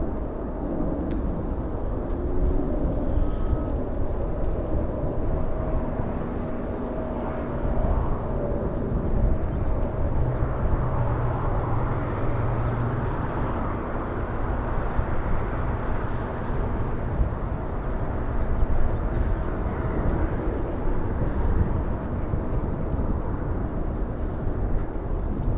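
A United Airlines Boeing 787-8 Dreamliner departing LAX gives a steady, distant jet roar that holds broad and even throughout.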